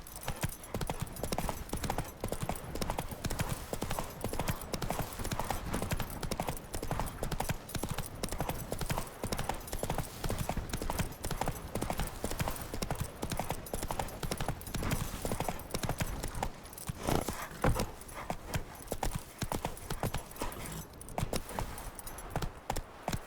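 A horse gallops without a break in The Witcher 3 Next-Gen video game, its rapid hoofbeats loud and steady throughout, with occasional faint game voices.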